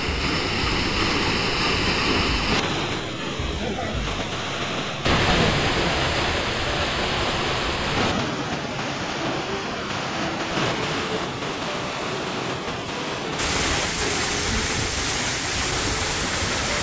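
Waterfall on the Meishan Zhukengxi trail in Taiwan, a loud, unbroken roar of falling water close at hand, its tone shifting abruptly at a few points.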